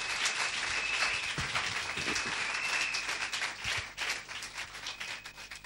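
Church congregation clapping and applauding, a dense steady roar of many hands filling the room, holding strong throughout before thinning slightly toward the end.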